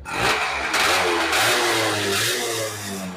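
A Yamaha F1ZR motorcycle engine, being checked for an ignition fault, revs loudly and close as the throttle is opened and held, a steady rising and falling roar with no talk.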